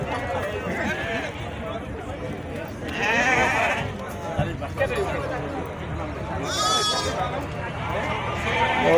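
Sheep and goats at a livestock fair in Sumé, bleating repeatedly amid crowd chatter and people talking, with several wavering bleats rising over the busy, continuous background.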